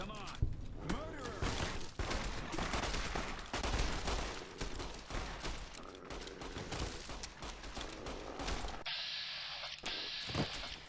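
Rapid gunfire rings out in Fallout New Vegas, a dense run of sharp, loud shots with clattering impacts, then a brief mechanical click and a thin ringing tail, with voices underneath.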